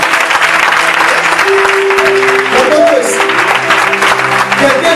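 A church congregation at a seminar applauding the Lord, loud dense clapping throughout with voices rising and calling out over it.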